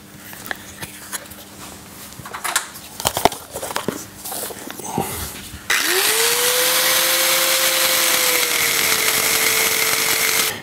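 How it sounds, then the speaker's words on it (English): An angle grinder spins up with a sudden loud whine and keeps up a steady, high-pitched grinding as it works a piece of scrap metal, after a stretch of quieter clattering and handling noises. "this project, like so many other projects, starts with a piece of scrap and a grinder"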